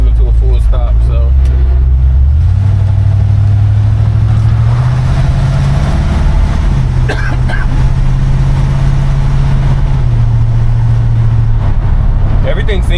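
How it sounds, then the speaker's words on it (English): A 1952 Chevy 3100 pickup drives along with a loud, low engine drone that rises in pitch as it speeds up and holds steady, heard from inside the cab. "Definitely a fun truck to drive."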